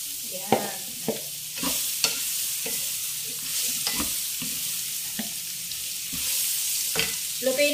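Mango and chili cooking in a pan for an Indian-style mango pickle, a continuous close sizzle broken by regular spoon scrapes and stirring strokes, with no talking.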